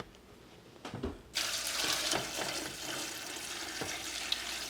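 Water gushes steadily into a container, filling to the gallon line for pickling, after a couple of clunks, a full rushing pour that continues to the end.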